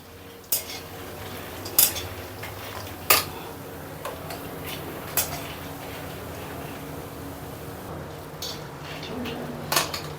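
Peanuts being stirred in a hot kadai with the gas turned off, a spoon scraping and clinking against the metal pan in irregular strokes, with a few sharper knocks standing out over a low, steady rustle.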